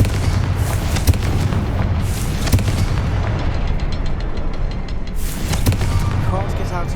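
Confringo blasting curses explode in Hogwarts Legacy, loud booming blasts over a dense, continuous rumble of combat noise, with several sharper bursts standing out across the stretch.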